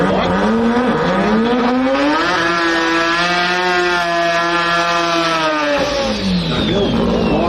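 Turbocharged 13B rotary drag car at a drag strip launching hard off the line, a loud close engine howl rising in pitch as it accelerates, then dropping away with a brief shift-like dip near the end.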